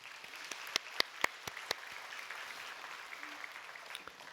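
A church congregation applauds a newly married couple during a sermon: scattered, fairly faint hand claps, sparse and uneven rather than a full roar, with a few sharper claps standing out early on.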